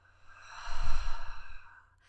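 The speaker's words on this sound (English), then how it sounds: "And then exhale." A single long, soft exhale during a stretching exercise swells over about a second, then fades, close and alone.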